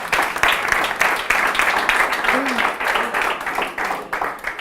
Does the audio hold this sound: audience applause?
yes